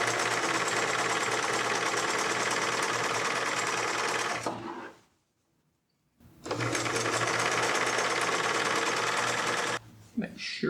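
A sewing machine stitches a seam on a craft project, running loud and steady near the mic, stopping for about a second of silence midway, then resuming steadily until a brief pause near the end.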